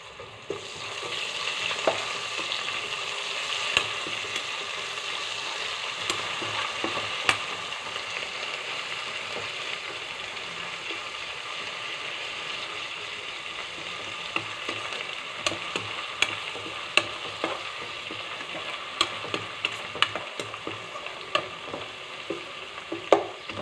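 Onions with ginger-garlic paste and turmeric sizzle steadily in a pan for an egg tomato curry, with periodic clinks and scrapes of a spoon stirring, close and continuous with no talking.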